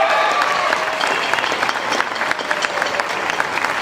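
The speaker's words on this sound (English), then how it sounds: "How about a hand for some of our high school students who are here tonight?" An audience at a jazz concert applauds high school students in the crowd, with steady, fairly close clapping and a few individual claps standing out, continuing throughout.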